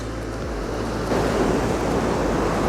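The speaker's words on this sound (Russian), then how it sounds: "Но судя по волнам, они действительно сегодня огромные." Huge sea waves break on a beach near Odesa, a continuous rushing roar with wind buffeting the microphone, surging louder partway through as a bigger wave crashes in.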